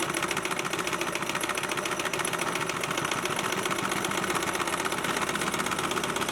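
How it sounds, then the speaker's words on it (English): Steady, continuous mechanical whirring of a sewing machine stitching a strap down onto a homemade hunting saddle, close and even throughout with a fast regular pulse and no talk. "I sew on both top and bottom, not just the top, so that the strap is completely sewed down."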